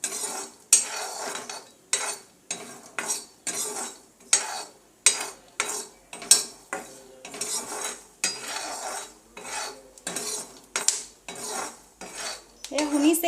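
Peanuts roasting in a pan are stirred with a metal spatula, producing a steady rhythm of scraping clinks and rattles against the pan, one stroke about every half second, close up and with no talk.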